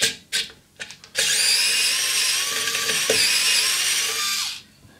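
A power drill runs in reverse to unscrew a wire wheel, a loud, high, steady whirring lasting several seconds after a few short clicks and bumps, then stopping. It is close and heard alone.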